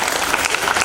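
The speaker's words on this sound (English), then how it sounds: "Applause. Let's thank them." Brief burst of audience clapping at a school investiture ceremony, close and fairly loud, a short, dense patter with no voices.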